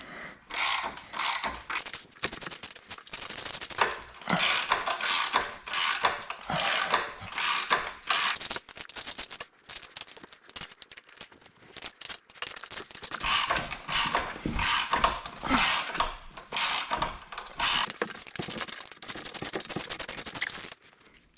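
A bushing tool presses out a subframe bushing on a BMW E39 M5 Touring, giving off close, repeated ratcheting clicks in quick bursts with short pauses between strokes.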